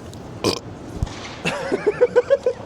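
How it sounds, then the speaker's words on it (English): A person at a Melbourne comic convention lets out a loud, close burp, a croaky rising eructation that breaks into a rhythmic series of gulping pulses near its end. "I went to burp, but I just pulled the mic right"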